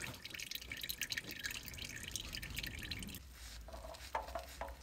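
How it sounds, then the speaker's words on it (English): Used engine oil draining and dripping from a Subaru STI oil filter into a drain tank, heard as a faint, continuous trickle that gives way to a few close, distinct drips. "flip it over and drain the rest of the oil"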